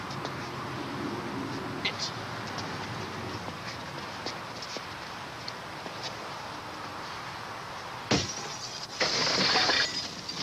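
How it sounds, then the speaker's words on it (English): A large 5-by-9-foot sheet of storefront plate glass shatters, a sudden loud burst of breaking glass near the end after a long stretch of steady background noise. "a broken 5-by-9-foot sheet of plate glass from a storefront window, it shattered, sending glass crashing down on them"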